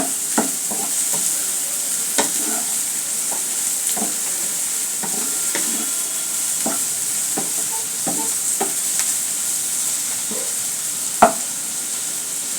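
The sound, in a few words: chopped garlic frying in oil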